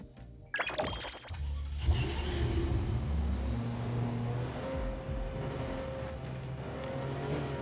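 A Porsche sports car in the NTE open-world game gives a sharp crunching burst at the start, then its engine hums and revs steadily with rising and falling pitch, close and fairly loud.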